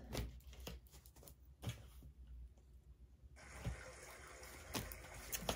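Water running from a kitchen tap into a container at close range, a steady hiss with a few soft clunks and knocks around it, rising in fullness toward the end.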